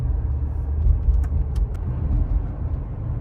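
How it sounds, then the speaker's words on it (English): Car with KE-Jetronic fuel injection driving, a loud continuous low engine and road rumble from inside the cabin with a few faint clicks. "So we're still driving around."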